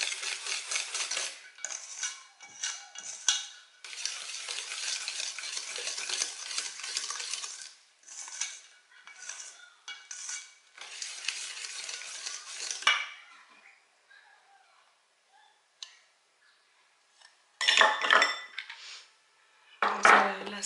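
Yogurt cake batter, with oil just added, being whisked in a bowl: steady clinking and scraping of a utensil against the bowl for about thirteen seconds, then sparse quieter taps and two short loud bursts of stirring near the end.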